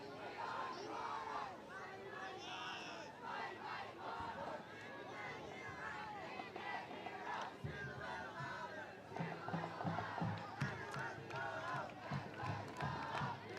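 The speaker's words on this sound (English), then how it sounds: "So the Monarchs cheering section getting back into it" A high school football student cheering section, the Monarchs, chants and yells in the stands during a varsity game. Rhythmic group shouts rise and fall over crowd noise, with some voices mixed in.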